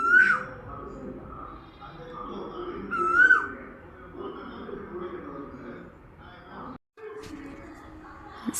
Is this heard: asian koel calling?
yes